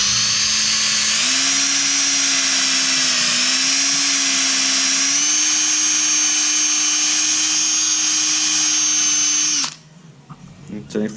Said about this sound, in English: So it's in a drill. Very gentle to not mess my valves up.